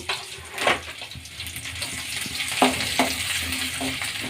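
Ginger and garlic sizzle in cooking oil in a pan, a moderate hiss broken by a few sharp spatters and stirring clicks, heard up close with no voices.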